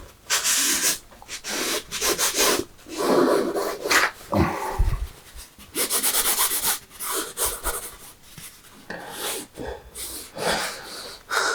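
Oil paint being rubbed onto a stretched canvas, heard close up as rough, scratchy strokes in irregular bursts separated by brief pauses.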